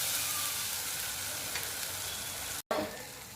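Onions with ginger-garlic paste fry in a pan for a bitter gourd and chana dal dish, an even, soft sizzling hiss that holds steady throughout except for a momentary cutout near the end.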